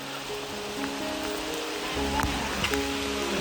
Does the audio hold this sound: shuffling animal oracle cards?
no